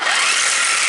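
An AEG electric impact wrench whirs in one loud, high burst close by for about a second, with no voices.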